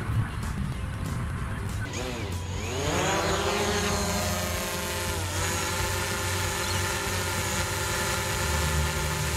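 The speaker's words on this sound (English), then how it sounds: "I also got a drone." A camera drone flies close overhead near a beach, its steady high-pitched propeller whine holding through the clip with a sweeping pitch shift as it moves, loud and continuous over wind and background noise.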